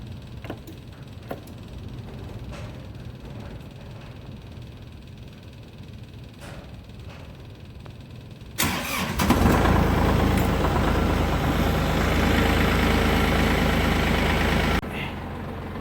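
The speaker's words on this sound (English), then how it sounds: "So I'm going to start this tractor real quick." A tractor sits quietly in cold weather, then its engine cranks and fires abruptly, settling into a steady, loud idle to warm up before dropping slightly at the end.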